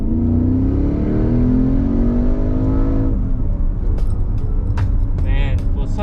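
A Porsche 911 GT3 accelerates at full throttle out of a slow corner on a race track, its engine note climbing loudly for about three seconds before an upshift, then settling lower under faint clicks.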